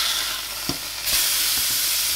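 A burger patty for a homemade McDonald's-style burger fries in a pan with a steady, bright sizzle, broken by a couple of soft clacks and a sharp surge in the hiss partway through.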